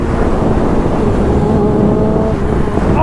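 A 2019 Yamaha R6 sport motorcycle exhaust roars loud and close while riding, a strong continuous engine drone with rising tonal harmonics as it pulls under throttle, no talking over it.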